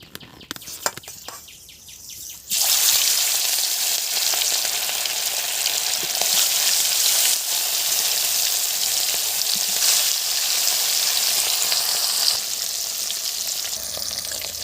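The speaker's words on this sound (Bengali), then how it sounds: "তেলটা গরম হয়ে গেছে, মাছটা দেওয়ার আগে একটু নুন দিয়ে দেবো যাতে মাছটা না ফাটে" Fish pieces slid into hot oil for a light fish curry with ridge gourd and drumsticks, a few quiet clinks giving way to a sudden loud, steady crackling sizzle that holds close and dense throughout.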